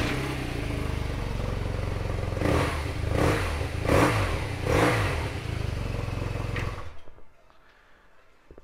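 A 2017 BMW R nineT Racer motorcycle engine runs loud and close with three or four sharp revs rising and falling before it cuts off, leaving near silence.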